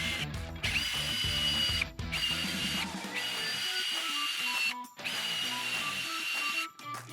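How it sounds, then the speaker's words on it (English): Power drill boring four holes with a 3/16 inch bit through a metal door hinge, loud whining bursts separated by short pauses, close up with no talk. "I'm drilling the 4 holes using a 3/16 inch bit."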